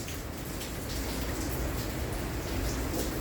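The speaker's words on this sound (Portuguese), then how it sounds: "Aqui a chuva aqui na porta" Heavy rain from a storm with strong wind pours in at a porch door of a house in Jacaraípe, a dense steady wash of falling water that stays loud and even throughout.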